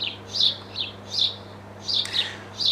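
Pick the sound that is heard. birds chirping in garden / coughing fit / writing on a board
birds chirping in garden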